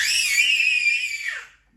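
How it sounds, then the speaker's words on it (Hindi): A person screams loudly in one sustained, high, shrill cry that holds steady and then falls away at the end, near and alone. "आज वो फुल जोर से चीखे मार रहे हैं"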